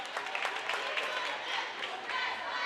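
A home crowd cheers and claps in a gym during a girls' high school basketball game between Norcross and Tift County, a steady mid-distance roar under someone talking.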